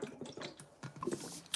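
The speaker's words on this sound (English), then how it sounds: "I'm going to take a sip of water" Someone drinks from a big water jug up close, with a few gulping, sloshing sips and small liquid clicks in a brief burst.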